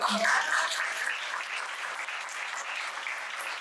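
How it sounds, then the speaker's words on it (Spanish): A room of attendees at a launch event for a diversity study breaks into applause, a burst of clapping that starts strongest and then settles into a steady, moderately loud patter. "Le damos una aplauso."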